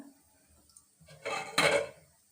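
A lid set down over a rice cooker pot while chicken biryani cooks with ginger paste and whole spices, giving a close clattering clank of metal followed by a brief rattle, with no talk.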